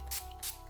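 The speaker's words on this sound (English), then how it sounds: "This is from Barry M. All Night Long setting spray." Barry M All Night Long setting spray is sprayed in quick, soft hissing puffs, three short bursts close to the microphone, faint and alone.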